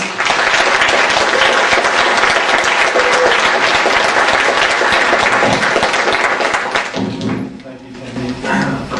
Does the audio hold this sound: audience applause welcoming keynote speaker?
yes